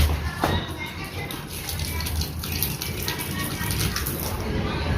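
Water runs steadily into a plant container and fills it to the top, a continuous splashing gush heard close up with faint background noise and no clear talk.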